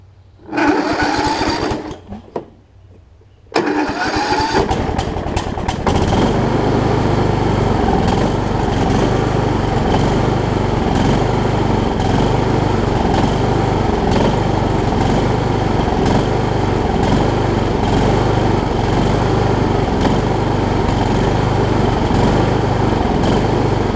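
Troy-Bilt Horse riding mower with a Kohler Courage engine after carburetor and valve work, starting with a few sputtering cranks, then settling into a steady, loud, close rhythmic running chug that holds without faltering.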